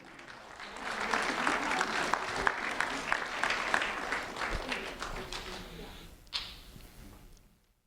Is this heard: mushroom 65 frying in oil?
no